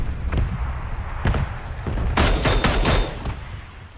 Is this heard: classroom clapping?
no